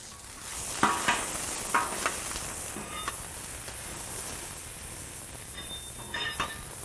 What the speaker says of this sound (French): Faisons frire quelques oignons.